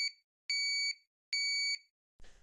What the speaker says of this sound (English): The buzzer is an alarm that is triggered in case of an unrecognized card.